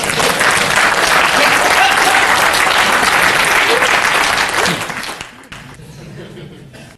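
Audience applause at a dating-advice seminar, a dense burst of clapping that holds steady and then thins out toward the end, with a faint voice beneath.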